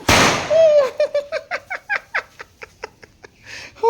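Firecrackers going off at a birthday party, a rapid string of about a dozen loud, sharp pops after an opening burst. The pops come evenly at first and then spread out.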